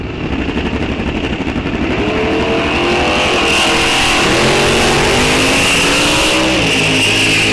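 Drag cars launching side by side at Rock Falls Raceway during an NHRA National Open, a loud sustained roar of engines at full throttle with rising harmonic pitch sweeps as they accelerate away, with no talk.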